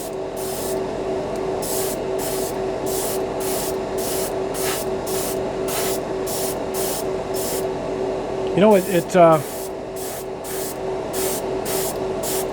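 A Harbor Freight budget airbrush driven by its compressor spraying black primer onto spoons: repeated short, loud hissing bursts over a constant motor hum, with a brief stretch of talk partway through.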